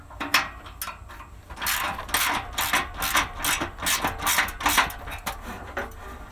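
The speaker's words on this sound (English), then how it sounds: "I'm going to tighten these nuts down first so that we can go ahead and get it in place and start tightening down completely." A ratchet is tightened on the exhaust nuts of a 1994 Astro van during a muffler and tailpipe replacement, giving rapid clicking bursts that run in close, loud runs of ratcheting with short pauses between.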